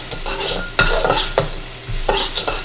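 Ham and egg fried rice with salt is tossed and stirred in a hot pan. Close, scraping strokes come every half second or so over a steady low sizzle, with occasional sharper knocks of the utensil against the pan.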